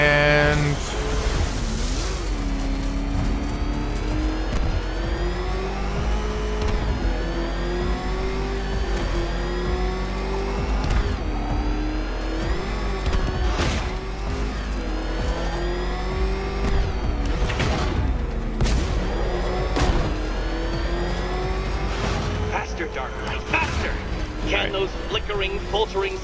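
Batmobile engine in Batman: Arkham Knight, a continuous roaring motor rising and falling in pitch as it revs and races, with voices talking over it throughout.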